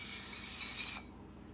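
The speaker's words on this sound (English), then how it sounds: "And then you take this spray" Cooking spray hissing from an aerosol can into a cake pan while making a lamington, a steady close spray of about one second that cuts off abruptly.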